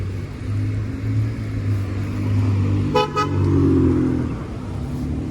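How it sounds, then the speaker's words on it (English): A car horn gives two quick toots amid steady nearby road traffic and engine rumble. "Someone just honked at me."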